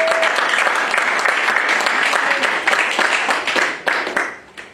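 Church congregation applauding, a dense, loud wash of clapping from many hands that holds steady, then thins and fades out near the end.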